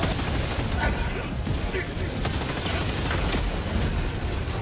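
Dense, continuous gunfire and rumbling explosions in the Helldivers 2 video game, loud and chaotic throughout, with voices shouting underneath the battle.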